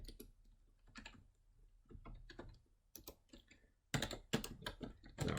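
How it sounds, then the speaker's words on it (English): Keys clatter on a computer keyboard as code is typed, in irregular bursts of quick close keystrokes that grow louder and denser toward the end, with no talking. "I'm not used to this keyboard."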